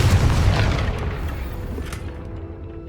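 A Confringo blast spell in the Hogwarts Legacy video game goes off as a loud, deep boom right at the start. It rumbles and slowly fades over about three seconds.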